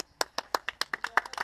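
A small group claps for the winner of a kart race at a karting event in Hořovice, with about a dozen sharp, uneven hand claps in quick succession, close and fairly quiet.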